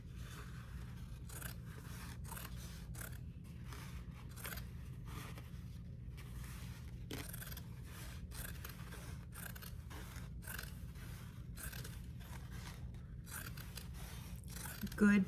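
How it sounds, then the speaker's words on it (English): Scissors snip through denim from old jeans in a steady series of close, crisp cuts, roughly one every second, with a faint background hum. "Good pair of scissors makes all the difference here."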